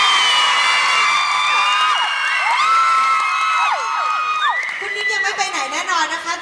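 An audience at a soy milk promotional event at Central Rama 9 cheers and whoops, with shrill voices and whistles rising and sliding over each other before scattered clapping and chatter take over near the end.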